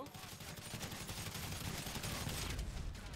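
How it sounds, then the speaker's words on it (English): Dense video-game gunfire and a sticky bomb blast in GTA 5 Online form a loud, continuous barrage of rapid shots and booms with no pause. "I threw a sticky bomb and he shot it. That's what blew it up."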